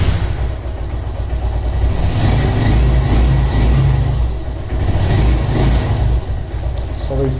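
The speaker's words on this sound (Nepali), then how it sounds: "अब हाम्रो बाइक स्टार्ट गरेर हेरौँ" A motorcycle fitted with an anti-theft alarm system is started and revved nearby, a steady loud engine drone that swells and eases, with a voice talking over it.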